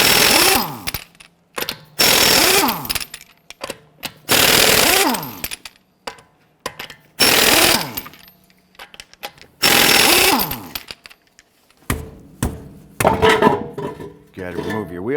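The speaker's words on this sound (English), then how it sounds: "let's loosen and remove our lug nuts" An impact wrench with a 22mm socket loosens and removes lug nuts on the front wheel of a 2009-2015 Honda Pilot: loud, close bursts of rattling hammering, about seven of them, separated by quiet gaps.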